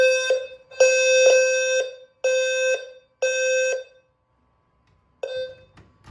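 A System Sensor L-Series low frequency fire alarm sounds loud and close, a harsh buzzing horn in four long blasts with short gaps, then a silence and one brief final burst.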